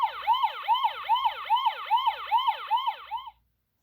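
A Fisher-Price Lil Movers toy fire truck from 2005 plays its electronic siren, a rapid repeating swooping wail cycling about a dozen times over three seconds, close and clear with no talking, then it cuts off abruptly.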